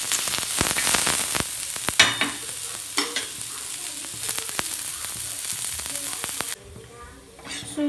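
Onion sizzles and fries in oil in a pan with steady crackling and scattered sharp clatters of stirring, louder in the first part and quieter near the end.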